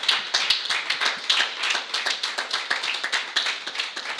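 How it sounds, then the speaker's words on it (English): Summit audience applauding at the AfricArena Berlin Summit, a lively spread of hand claps with sharp individual slaps standing out, steady and close, with no one speaking. "please also a big applause for Christoph, the founder of AfricArena."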